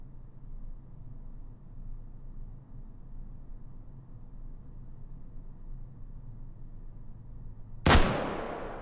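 A single sharp, loud PSG-1 semi-automatic rifle shot in a VR shooting game, ringing out near the end after a long stretch of quiet background hiss and decaying quickly.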